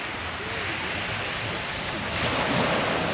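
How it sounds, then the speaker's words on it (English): Small, gentle waves wash steadily onto a beach in Barcelona, a continuous broad rush with wind buffeting the microphone and a slight swell in the surf toward the end. "These little baby waves."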